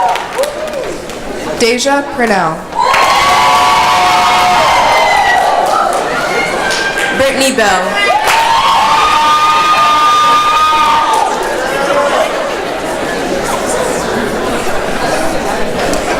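An audience at a 2018 National Honor Society ceremony cheers, shouts and applauds loudly in bursts as names are read out over a public-address voice.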